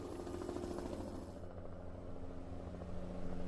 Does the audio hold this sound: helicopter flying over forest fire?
yes